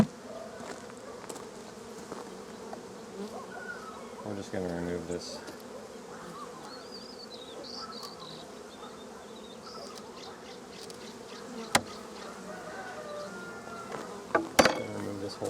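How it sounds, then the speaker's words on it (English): Saskatraz honey bees at an opened backyard hive hum in a continuous close buzz, with individual bees flying past the ear, under occasional quiet talk and some rustling of hive parts. "It's nice to see bees up there."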